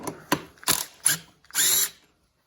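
A ratchet fitted with a 12mm socket loosens a bolt on a Yamaha Raptor ATV during a steering stem repair, giving several short bursts of sharp clicking close by, then silence.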